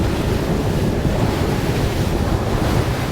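A Regulator 34 boat fitted with Enertia 18 propellers running at about 57 miles an hour, heard as a steady, loud roar of rushing water and wind with no break.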